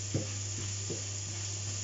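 Champignon mushrooms fry in hot oil in a pan, giving a faint, steady sizzle with a few soft stirring knocks over a low constant hum.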